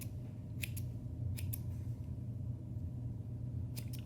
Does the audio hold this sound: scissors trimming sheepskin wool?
yes